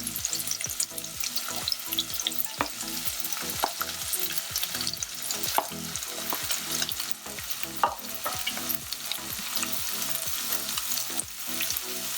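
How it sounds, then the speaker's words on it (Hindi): Onions with green chillies frying in a pan for chicken curry, a continuous sizzle broken by quick rhythmic spatula strokes scraping the pan, close and fairly loud, with no voices. "तब हमें सारी प्याज को भूनना है गोल्डन ब्राउन होने तक"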